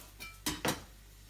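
Garlic cloves crushed on a kitchen board to loosen their skins, heard as two firm, dull thuds close together, fairly loud against a quiet room.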